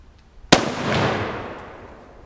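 A single loud rifle shot from a 1942 K.Kale Ankara 8mm Mauser fired at a brick outdoors, a sharp crack followed by a long rolling echo that fades over about two seconds.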